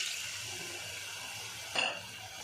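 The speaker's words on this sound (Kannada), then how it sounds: "ಇದು ಹಸಿ ಬಟಾಣಿ ಬೇಯೋದಕ್ಕೆ ಸ್ವಲ್ಪ ನೀರು ಹಾಕ್ಕೊತಾ ಇದ್ದೀನಿ." Water is poured into a pan of masala to cook raw peas, a steady quiet rushing hiss ending in a brief splash near the end.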